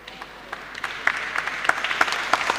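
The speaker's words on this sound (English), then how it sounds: "I know your clapping is slow" Slow, scattered clapping from a church audience at a healing sermon, uneven single claps spaced apart and building slightly, a sparse moderate patter with no talk over it.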